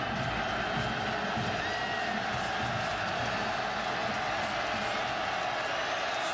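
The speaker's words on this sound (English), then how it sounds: "Crowd on its feet, wants Ohio State to keep Indiana without a touchdown" A stadium crowd roars steadily at a 2010 college football game between Indiana and Ohio State, with fans on their feet, a dense, continuous wash of cheering that stays loud throughout.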